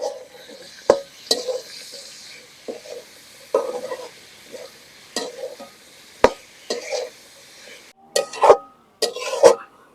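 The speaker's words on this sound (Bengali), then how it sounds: "চিচিঙ্গা ভাজা নিছি" Snake gourd fries with onion, salt, turmeric and green chili in a pan, giving a low sizzle broken by sharp, irregular clacks of a spatula stirring against the metal.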